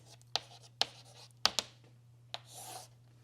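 Pen or chalk writing out Gauss's law during a physics lecture, heard as a few sharp, separate strokes spaced irregularly, followed by a softer scratching stretch, close and fairly quiet with no talk.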